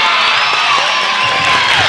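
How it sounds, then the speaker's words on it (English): An elementary school audience at a Black History program cheers and shouts in a loud, continuous crowd roar with whoops and children's voices; the cheering dominates over only faint hand clapping. "Clap your hands."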